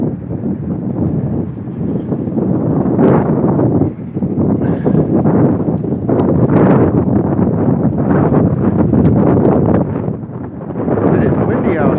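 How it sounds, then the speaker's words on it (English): Strong outdoor wind buffets the microphone with a loud, continuous low rumble and roar that surges and dips for the whole stretch. "It is windy out here, guys."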